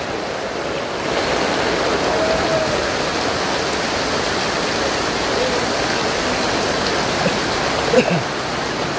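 Floodwater surging over a road makes a loud, continuous rushing roar, steady and close for the whole stretch, with a brief clatter near the end and faint voices beneath.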